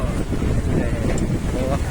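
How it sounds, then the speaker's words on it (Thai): Strong wind blows straight into the microphone at an outdoor stage show in Nong Bua, Thailand, making a loud, continuous buffeting roar that covers everything else. "วันนี้เจอลมแรงอีกแล้วครับ"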